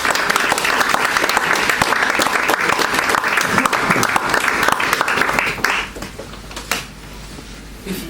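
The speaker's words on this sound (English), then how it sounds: "I think we ought to give a more thorough round of applause." A conference audience at a Sir Richard Francis Burton event applauds after readings, with loud, dense clapping from a sizeable crowd that thins and tails off into a few scattered claps toward the end.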